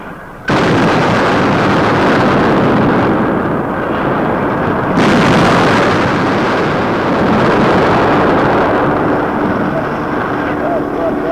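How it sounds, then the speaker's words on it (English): Heavy artillery guns hurl 300-pound projectiles in wartime archival newsreel footage: a loud, continuous rolling roar of blasts, renewed by a fresh surge midway. "Weapons capable of hurling 300-pound projectiles many miles with amazing accuracy."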